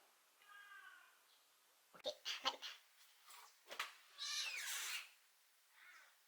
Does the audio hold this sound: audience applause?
no